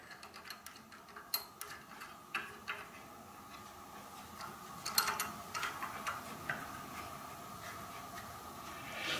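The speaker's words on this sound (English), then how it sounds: "I'm going to get the clock running and make sure that's working fine" A Hermle weight-driven clock movement bolted to a test stand ticks steadily, with faint, regular mechanical clicks heard close up and alone in a quiet room.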